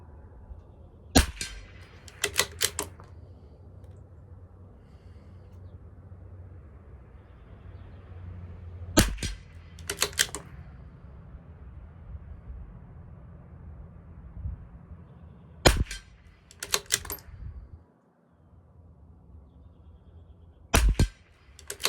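A CZ 457 rifle firing Hornady 22lr at a 50-yard target: sharp, quiet cracks in small clusters of one to three shots, separated by long pauses with low background hum.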